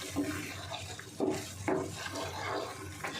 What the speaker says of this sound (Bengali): পালং শাক যে বাটিতে ছিল সেই বাটিটা ধুয়ে একটু জল দিয়ে দেব।